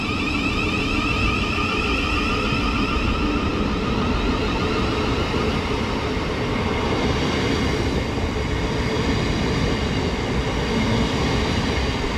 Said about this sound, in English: So departing now should be the delayed 1733 Thameslink service to